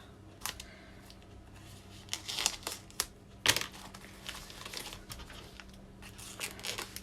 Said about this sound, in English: So let's cut this open.